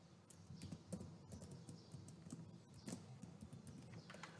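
Quiet typing on a computer keyboard while entering a password on a login page, a run of soft, irregular key clicks close to the microphone with no talk.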